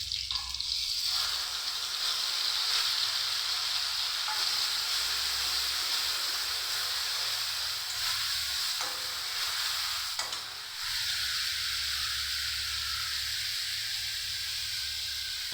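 A paste of ginger, garlic, onion and four green chilies sizzles steadily in a hot pan, a loud, continuous frying hiss that runs throughout with a brief dip partway through.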